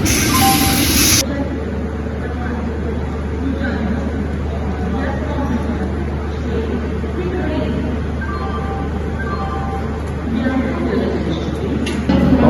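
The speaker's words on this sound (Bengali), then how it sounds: "এই ইঞ্জিনটা আমাদের ট্রেনে নিয়ে যাবে।" A Swarna Shatabdi Express train and its engine sit at an Amritsar station, with a steady loud rail rumble and hum running throughout under station crowd babble, plus a sharp noise burst at the very start.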